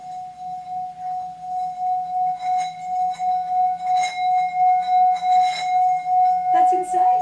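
A Tibetan singing bowl rings with a sustained, pulsing tone, its hum swelling and fading rhythmically as it is rubbed, with brief voices near the end.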